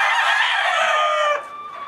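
A fighting gamecock crows once, loud and close, a long harmonic call lasting over a second before breaking off into quieter background.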